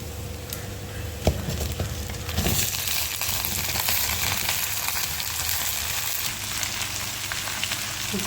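Pumpkin pieces dropped into a hot pan set off a loud, steady frying sizzle with some stirring scrapes, continuous and close throughout, no voices.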